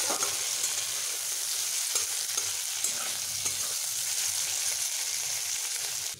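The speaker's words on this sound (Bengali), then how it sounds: "যাতে আমার পেঁয়াজগুলো একটু নরমভাবে ভাজা হয়" Onions with a pinch of salt frying in a pan for a ridge gourd dish, a steady close sizzle with soft stirring scrapes running throughout, no voices.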